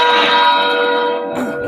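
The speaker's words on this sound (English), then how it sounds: "Bells will toll." Church bells ring from a phone's Bible app, a loud sustained metallic tone with layered ringing overtones that holds steady and then fades over less than two seconds.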